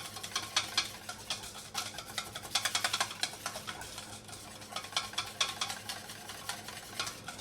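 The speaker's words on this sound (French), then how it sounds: "on fouette activement" Egg yolks and sugar whisked briskly by hand in a bowl, a fast run of rhythmic ticking and clicking strokes, fairly faint and steady throughout.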